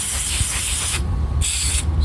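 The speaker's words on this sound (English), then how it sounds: "Spray some lubricant there." Steady close hiss of an aerosol can spraying silicone lubricant onto a motorcycle throttle cable, cutting out briefly twice in short pauses before resuming.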